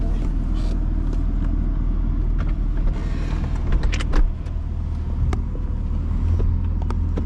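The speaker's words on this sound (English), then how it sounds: "Car starts up." A 2007 Mercedes-Benz CLK63 AMG Cabriolet runs at idle just after starting, a low steady engine rumble beneath scattered clicks and mechanical ticks from the cabin, heard close up.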